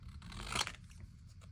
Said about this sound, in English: I take a pair of scissors. I cut